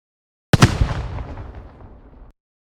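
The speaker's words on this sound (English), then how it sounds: "We've got that gunshot." A single loud gunshot cracks sharply, then its echo rolls away and fades over the next couple of seconds.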